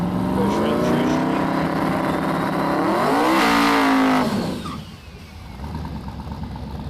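A turbocharged Ford Mustang with an LS engine makes a True Street drag run at a no-prep event, loud engine droning and climbing in pitch before cutting off abruptly, leaving quieter crowd and track ambience.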